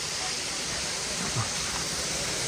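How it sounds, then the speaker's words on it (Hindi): Rushing water from a small waterfall in Plitvice National Park, Croatia, a steady broadband roar that stays even and continuous throughout, with no voices over it. "पानी की आवाज़ आ रही है तो शर्त है कोई ना कोई वाटरफॉल हमारे आसपास है"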